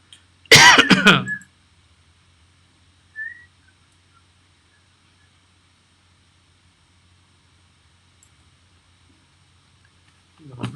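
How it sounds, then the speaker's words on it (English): One short, forceful cough close by, like a throat clearing, followed by near silence with a faint brief whistle-like tone. "I just coughed at"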